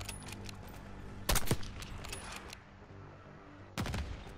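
Rifle fire on a city overpass in the shooter game Black Ops 6: scattered distant cracks and two louder bursts of shots over a low battlefield rumble.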